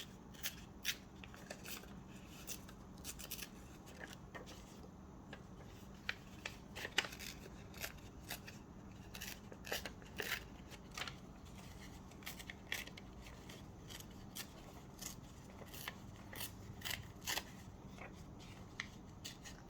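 Book pages for a junk journal trimmed with scissors, a quiet, close run of crisp snips and paper rustles repeating irregularly over a faint background hum.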